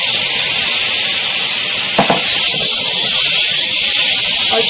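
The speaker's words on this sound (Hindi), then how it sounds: "चिकन डाल के हमें इसको अच्छे से भूनना है चिकन के साथ भी" Marinated chicken pieces hitting hot spiced oil in a pan for Mughlai chicken handi, a steady loud frying hiss throughout with a brief clatter midway.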